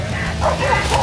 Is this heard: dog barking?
yes